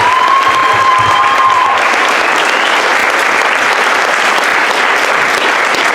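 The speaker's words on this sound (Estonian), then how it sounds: "Aplaus teile!" An audience bursts into sustained, dense applause at a live event, many hands clapping together in a steady, loud wash that continues throughout without letting up.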